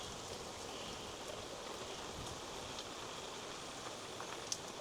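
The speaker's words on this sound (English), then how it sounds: "Look at this fucking rain, bro." Steady rain falls in Spain, a dense even hiss of drops on surfaces, fairly close and unbroken, with a few faint taps and a single sharp tick near the end, and no talk.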